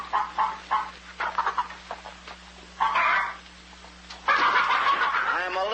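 Chickens cluck in short repeated bursts, with a louder, busier stretch of fowl chatter toward the end, over a steady low hum from an old film soundtrack on a farm.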